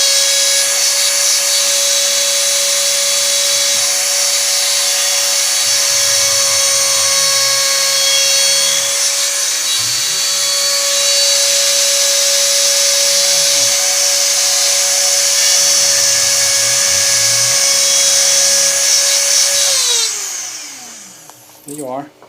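A CNC router spindle whines at a steady high pitch while cutting, with repeated sweeping tones as the bit travels back and forth, loud and continuous for about twenty seconds before spinning down at the end.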